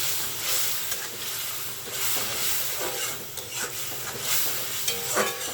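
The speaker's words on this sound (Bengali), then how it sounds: "এখন মশলাটা ভালোভাবে কষিয়ে নেব" A spice paste of turmeric, green chilli and onion paste is stir-fried in a pan, producing continuous sizzling and hissing with scraping stir strokes, close and fairly loud, no talking.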